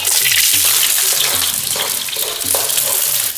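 Onion frying in hot oil, a close, continuous bright sizzle and crackle with a bubbling hiss, while a voice talks underneath.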